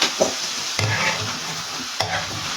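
Potatoes fry in hot oil for aloo baingan, a steady close sizzle with a few stirring scrapes and clinks throughout.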